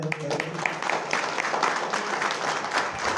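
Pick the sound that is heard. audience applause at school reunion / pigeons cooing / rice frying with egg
audience applause at school reunion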